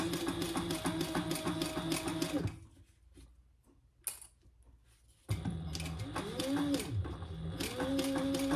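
A sewing machine top stitching an eighth of an inch along a slim snap duffle bag, running in two close bursts with a quiet pause between, the second start abrupt.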